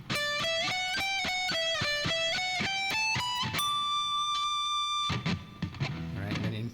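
Electric guitar plays the closing run of scale pattern 3, climbing note by note in an even rhythm up to a sustained high note held for over a second, then a brief strummed flourish.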